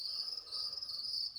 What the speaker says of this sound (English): The crickets in here are just unbelievable, friends.